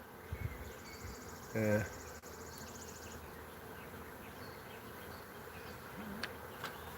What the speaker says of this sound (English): we were there 5 minutes and got this huge swarm.